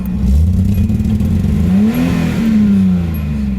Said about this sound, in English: So when I hit the gas, it'll kind of get stuck at 2K, but then it'll rev past.